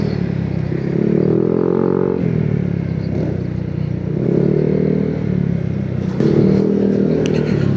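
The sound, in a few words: scooter engine with aftermarket exhaust pipe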